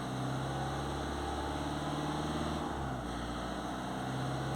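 Citroen C4 Picasso petrol engine with a long crank time and a suspected fuel fault, running steadily and quietly close by, with a slight change in pitch as the revs are raised.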